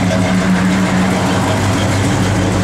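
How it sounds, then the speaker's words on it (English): A 1952 Mercury M1 truck engine idles close by with a steady, loud low rumble and hum that holds evenly throughout, with no voices. "Truck sounds great."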